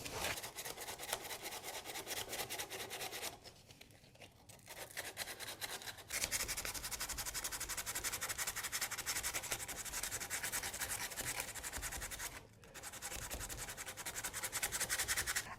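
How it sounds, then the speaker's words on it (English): Sandpaper rubs steadily over an old wooden dresser to strip the stain, a continuous close scratchy rasp with two short pauses. "Most of the time I sand in stages, coarse to strip, medium to smooth out some of the scratches, and fine to make it really nice and smooth."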